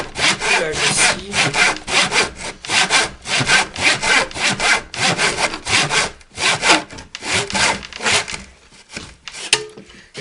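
A hand saw cuts through wood in steady back-and-forth strokes, close and loud, the rhythmic rasping repeating quickly and slowing slightly near the end.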